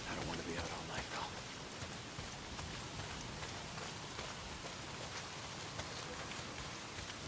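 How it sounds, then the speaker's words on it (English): Heavy rain pours down in the Days Gone video game on PS4, a dense, steady wash of downpour that holds evenly throughout, with voices talking faintly underneath. "Well, not if it's pissing down rain."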